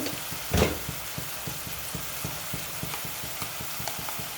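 Spices with garlic paste, salt, chili powder and turmeric fry in a pan, giving a soft, even sizzle with regular light scraping strokes and one louder stir near the start, with no voices.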